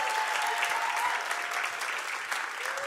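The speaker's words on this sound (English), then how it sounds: "Give her a big round of applause." Sustained audience applause for a speaker being welcomed up at a church gathering, steady and full-bodied clapping from a room of people throughout, with no break.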